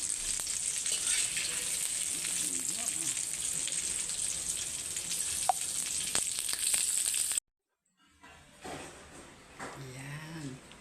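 Crab sautéing in butter and garlic, a steady bright sizzle that stops abruptly, then quieter kitchen sounds with a voice talking briefly.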